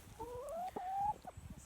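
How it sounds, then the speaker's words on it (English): A small chicken in a forest gives a drawn-out clucking call in two rising phrases followed by a few short clucks, close and clear with quiet woodland background. "Look what we found in the forest. A little chicken."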